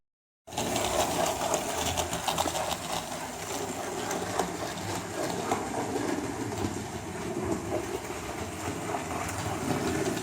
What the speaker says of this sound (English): So you can see the locomotive going around the part of the reverse section